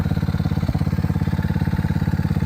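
Peace Powersports 110cc four-stroke automatic ATV engine running steadily, a loud, even chugging idle with a regular pulse throughout and no voices.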